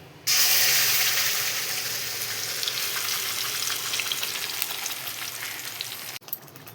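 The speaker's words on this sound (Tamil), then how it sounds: "இப்போ அரைச்சி வச்ச விழுதை இதில் ஊற்றணும்." Ground spice paste poured into hot oil in a pan for egg rice, bursting into a loud, steady hiss and sizzle that fades slightly over several seconds before a brief clatter near the end.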